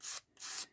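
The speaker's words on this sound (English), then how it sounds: "Then I have a sanding block, and I'm going to rough up the edges" A sanding block rubs the edges of a small paper-bag mini book in two quick, close, raspy strokes separated by a short pause.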